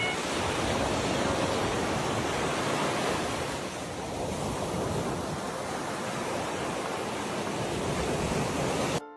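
Ocean waves wash onto a beach in a loud, continuous roar of surf, with a slight easing midway before swelling again, and no voices.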